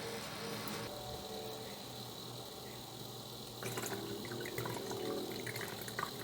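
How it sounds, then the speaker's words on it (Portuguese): Household bleach poured into a measuring container in a small room, a steady close trickle of liquid that grows slightly louder and splashier partway through. "a gente vai colocar água sanitária nesse recipiente nos 100 ml que eu preciso"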